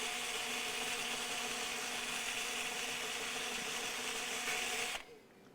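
A guitar's bottom strap button on a Squier Vintage Modified Thinline Telecaster being tightened with a power driver, a steady continuous whirring drone lasting about five seconds before stopping abruptly, close and even.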